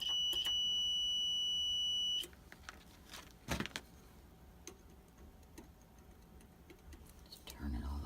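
A multimeter set to continuity on a water heater gives a sustained high-pitched electronic tone for about two seconds, then cuts off into quiet handling clicks and faint background noise.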